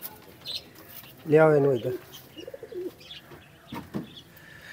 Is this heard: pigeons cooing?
yes